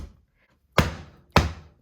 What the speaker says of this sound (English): the easiest way to do is just to chop a big chunk off. So I'm going to chop like half of this.